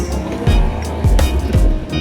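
A Honda Giorno scooter with an upgraded CVT setup and aftermarket exhaust pipe revs at high RPM. The exhaust gives short, gruff, aggressive bursts, close and loud, with no talking.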